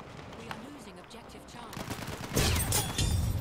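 Ribeyrolles rifle gunfire in a Battlefield video game: rapid automatic bursts that grow louder and denser toward the end, mixed with game sounds and under intermittent talk.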